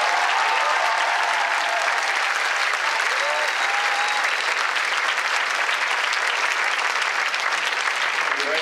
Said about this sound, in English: Go ahead, applause to the coach.